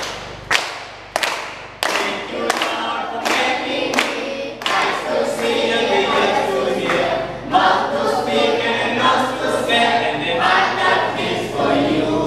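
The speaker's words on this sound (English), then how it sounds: "you just clap but you don't make noise" An audience clapping at a praise song gathering, starting with a few separate loud claps spaced about a second apart, then building into steadier group clapping with some voices underneath.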